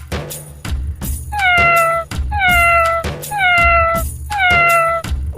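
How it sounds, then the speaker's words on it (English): A domestic cat meows four times in a steady sequence, each call clear and close, drawn out with a falling pitch, with faint taps between the calls. "It's a cat."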